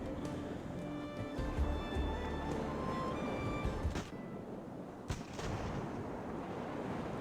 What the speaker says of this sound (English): There we go, some solid hits with some canister shot.